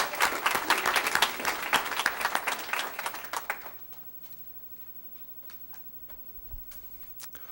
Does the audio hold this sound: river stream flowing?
no